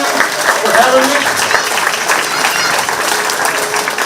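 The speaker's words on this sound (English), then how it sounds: "all these kids deserve a huge round of applause" Steady applause from a crowd at a county fair 4-H/FFA sheep show, a dense wash of clapping that holds level and close for the whole stretch.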